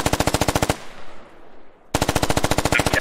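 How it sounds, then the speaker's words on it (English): Automatic rifle fire in the tactical shooter Squad lays down suppression: a rapid, loud burst of evenly spaced shots, a second of decaying echo, then another long sustained burst. "Salty Toast is doing a good job suppressing for them"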